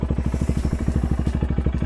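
A fuel-injected motorcycle engine idles after a cold start to warm up, giving a rapid, regular thumping pulse with a faint clatter. It sounds close and steady, with no talk over it.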